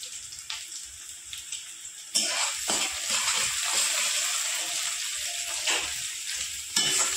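Two dried red chilies and crushed garlic dropped into hot oil with frying onions for jute-leaf dal, a sudden loud sizzle that settles into steady crackling frying with a few stirring scrapes.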